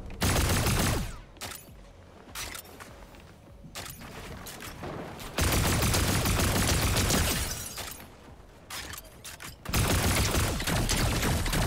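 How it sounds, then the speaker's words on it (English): Pulse rifle gunfire in the video game Fortnite, arena mode: dense bursts of rapid automatic shots in several loud stretches, broken by quieter gaps with clatter and game noise. "This pulse rifle is nuts, bro."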